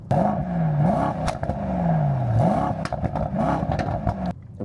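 A Mercedes-AMG S 63 E-Performance engine heard from outside the car, loud and close, its revs sweeping up and falling back several times in a row with no talking.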